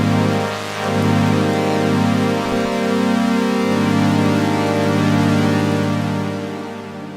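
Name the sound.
Yamaha CS70M synthesizer pulse width modulation sound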